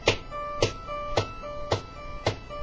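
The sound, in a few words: guitar finger tapping eighth notes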